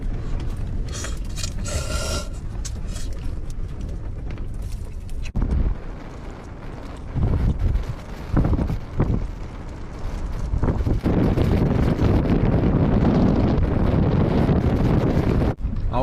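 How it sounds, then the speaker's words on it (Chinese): Strong gusting wind outside a camper van on a freezing day, rumbling buffets against the vehicle and microphone that swell and fade, growing louder and more sustained toward the end. "外面还是狂风呼呼呼的啊。"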